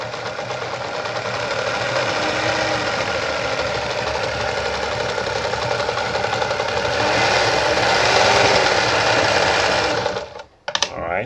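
A Veritas sewing machine stitches a wide zigzag at the maximum width setting 4 with stitch length 2, running as a steady, continuous mechanical whir close by, then stopping abruptly near the end.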